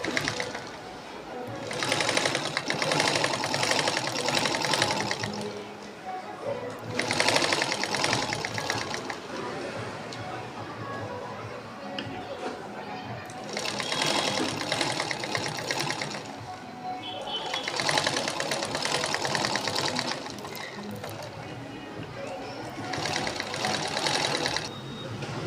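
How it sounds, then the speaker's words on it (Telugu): Sewing machine stitching a line of piping on a lined blouse, running in several bursts of steady whirring separated by short pauses, close and fairly loud throughout. "ఇప్పుడు ఈ పైపింగ్ మధ్యలో నుంచి ఒక కుట్టు వేసేసుకోవాలి"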